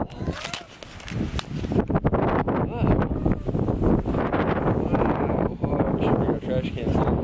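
Strong gusting wind sweeps in ahead of an approaching storm in Arizona, roaring and buffeting the microphone continuously, with a voice faintly audible at moments.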